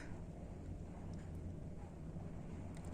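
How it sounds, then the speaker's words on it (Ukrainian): Strong storm wind blowing hard outdoors at a house under construction, a continuous low roaring rumble buffeting the microphone, steady and loud with no voices. "Ось такий ураган у нас сьогодні."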